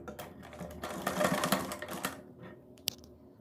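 A domestic sewing machine runs in a quick, steady mechanical whir as it stitches a neckline strip on a suit or kurti, close and alone, ending in a sharp click.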